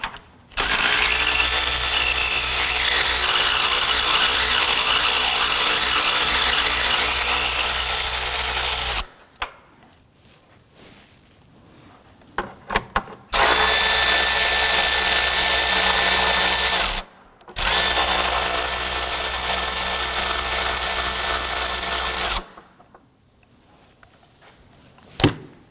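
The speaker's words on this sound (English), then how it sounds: "Using a 10mm socket, loosen the nuts" A power tool with a 10mm socket loosens the nuts on the battery J-bolts of a 2005-2009 Subaru Legacy, running in three loud, steady whirring bursts separated by short quiet gaps.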